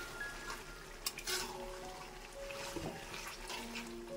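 Mutton being stirred in a pan during slow frying for a biryani base, a soft steady sizzle with scraping spoon strokes and a few light clinks, close and moderately quiet.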